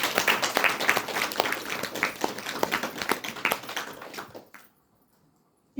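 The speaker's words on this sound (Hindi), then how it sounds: "उसके लिए भी ताली देना चाहिए।" An audience breaks into lively applause, dense clapping that is loud at first and then thins, fades and stops, leaving silence.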